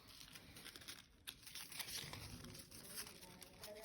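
Tissue paper is crumpled and crinkled by hand for a glued paper craft igloo, close up with continuous rustling and small crunches and no talking.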